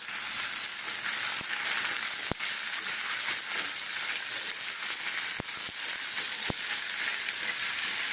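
Cut potatoes fry in a hot pan with a steady, loud, dense sizzle throughout, broken by a few sharp crackles and pops, with no talking.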